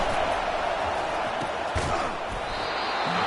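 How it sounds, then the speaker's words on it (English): A home crowd at a Clemson football game roars in a steady, dense wall of cheering and shouting, loud and continuous throughout, with a few brief thumps and louder swells rising above it. "Here comes this home crowd as the defense tries to get off the field on third down"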